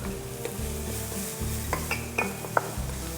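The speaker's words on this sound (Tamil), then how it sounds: "இப்போ ஆனியன் கொஞ்சம் லைட்டாக வதங்கினோடனே கருவேப்பிலை," Onion and curry leaves fry in a pan with a constant close sizzle, broken by scraping stirs and a few sharp clinks of a utensil against the metal; no voices.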